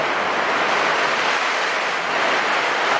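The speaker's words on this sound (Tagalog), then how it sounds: "Lakas ng hangin." Strong typhoon wind roars continuously over Metro Manila, a loud, dense rushing noise with steady buffeting and no voices.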